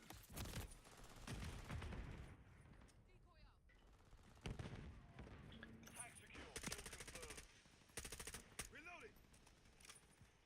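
Rapid automatic M16 rifle fire from a video game, bursts of shots repeating across the stretch, with a voice talking over much of it.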